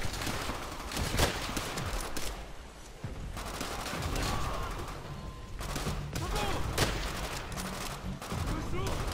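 Enemy gunfire and grenade blasts in Call of Duty: World at War, a dense, continuous battle din of rapid shots and bursts with speech present throughout.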